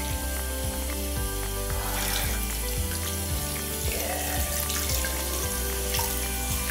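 Water runs steadily from a tap into a stand-and-play baby bathtub at a first bath, a constant splashing rush that carries on throughout under a faint low, regular thumping.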